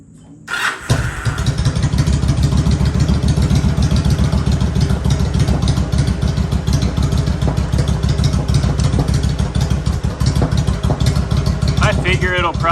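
Yamaha V-Star 1100 motorcycle, a 2006 model, cranks and fires up, then settles into a loud, steady, thumping close-up idle for the rest of the clip.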